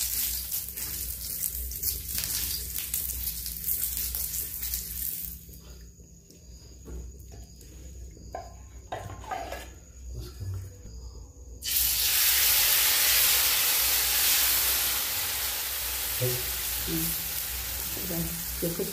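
Onion swirled through hot oil in a pan for traditional dhirde bursts into a loud, steady hiss partway through, after a quieter stretch with faint clinks, and keeps sizzling strongly to the end.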